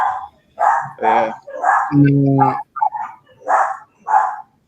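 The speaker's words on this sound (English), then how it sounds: "my dog is going crazy" An excited dog barks in a quick series of loud, close yelps and bow-wows, with a person's voice briefly mixed in between the barks.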